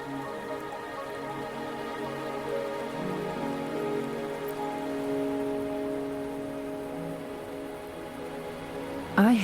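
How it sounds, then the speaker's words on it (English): Rain falls steadily in the video game Wuthering Waves, a continuous patter of drops on surfaces with soft tonal game ambience underneath. "Are you trapped here by the rain?"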